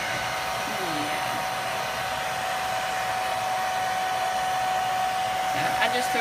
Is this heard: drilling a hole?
no